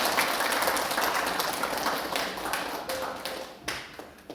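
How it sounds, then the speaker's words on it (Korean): A church congregation claps together for a child's singing achievement during a Sunday worship service, the steady applause filling the room for several seconds and fading toward the end. "박수 한번 하겠습니다."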